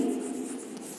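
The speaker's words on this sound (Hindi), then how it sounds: "अगर मैं इसी के आगे लिखती हूँ" During an English grammar lesson, a pen or marker writes on a board with one brief, close, scratchy stroke.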